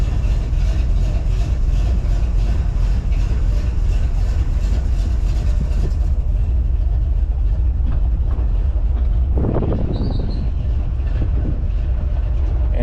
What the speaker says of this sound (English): this engine makes some kind of growling noise